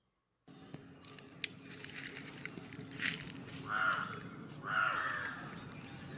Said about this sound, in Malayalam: മിണ്ടാതിരി കാക്കേ